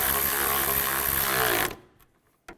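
A power tool whirs loudly for about a second and a half while tightening bolts during timing chain work on a 2002-2009 Chevy Trailblazer, then stops abruptly, followed by a faint knock and a brief click.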